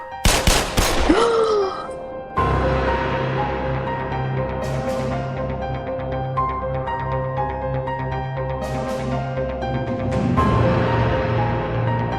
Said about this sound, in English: you hear the sound of gunfire